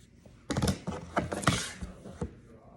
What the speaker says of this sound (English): I'm gonna take my rotary and I'm just gonna straighten it out.